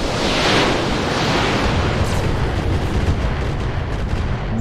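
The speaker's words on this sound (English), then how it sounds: "Firing all weapons." Mech firing all weapons in RogueTech, a dense, loud barrage of booming launches and impacts merging into a continuous roar, heaviest at the start and rumbling on throughout.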